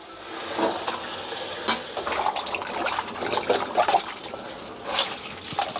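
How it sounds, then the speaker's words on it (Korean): Blanched food rinsed quickly under cold running water at a kitchen sink, a steady close splashing stream with small clattering and sloshing movements. "찬물에 잽싸게 한번 헹궈 줘야 됩니다"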